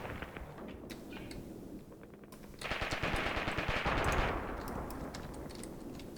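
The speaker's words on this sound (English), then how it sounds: "Shooting at my man in the houses over there" Gunfire in the tank battle game Graviteam Tactics, aimed at houses: sustained rattling machine-gun bursts mixed with sharper shots, getting denser and louder midway, then easing into steady distant firing, with no talk.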